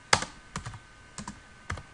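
Someone types a command on a computer keyboard, producing four short bursts of close, crisp key clicks spread over two seconds, with no talking.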